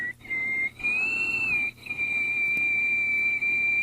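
A woman whistles a melody through her nose with her mouth closed, producing a clear, sustained tone with short breaks between phrases, close and loud.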